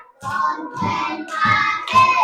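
Four hand claps, one roughly every half second, each with a brief ring-out, sharp and close with no talking.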